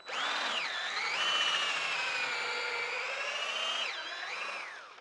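A half-inch power drill drives an Oakfield Apparatus hay probe sampler into a hay bale, a steady close whine that dips in pitch under load near the start and end, running alone for about five seconds.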